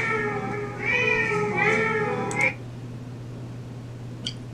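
A person imitates a cat, giving two drawn-out meows followed by a short squeaky call, close and clear against a steady low background hum.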